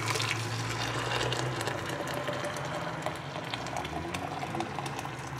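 Water poured steadily to brew black tea, a continuous close liquid rush with gurgling texture, running alone without talk for several seconds.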